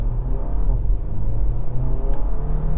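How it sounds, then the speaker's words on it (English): A 2023 Porsche Macan T with a PDK gearbox accelerates, its engine giving a loud, continuous low rumble and rising drone heard from inside the car, with no talking. "it's definitely a responsive engine, and you know, PDKs always work well"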